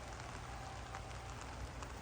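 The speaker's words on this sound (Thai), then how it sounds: "โอ้อ บรรยากาศฝนตกครับผม" Daytime rain falls steadily and softly, a faint, even hiss of drops on surfaces with no voices.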